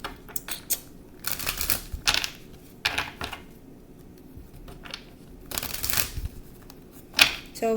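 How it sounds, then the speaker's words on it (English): Tarot cards are shuffled by hand in several crisp, riffling bursts separated by short pauses, close and fairly loud, with a faint voice briefly audible between them. "I'm going to shuffle."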